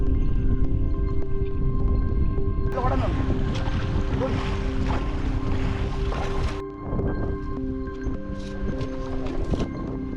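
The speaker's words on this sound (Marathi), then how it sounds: "बोट खोल समुद्रात जायला लागले" A traditional rapan fishing boat off Dandi beach in Malvan heads out to deep sea, its engine droning steadily under wind buffeting, with a louder rush of wind and water noise midway.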